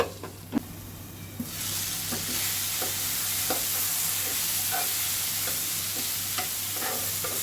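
Spices sizzle steadily in a hot pan with chopped tomato, with occasional scraping knocks of a spatula stirring through the constant frying hiss.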